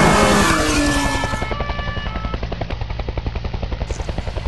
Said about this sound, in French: Un hélicoptère arrive en renfort.